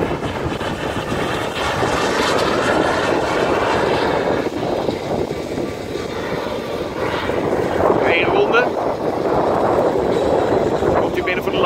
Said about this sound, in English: Er kommt in für die Landung.